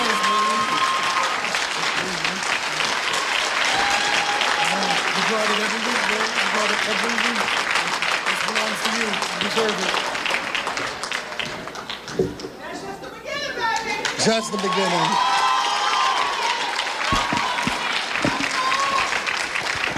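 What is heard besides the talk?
audience applause at a landing ceremony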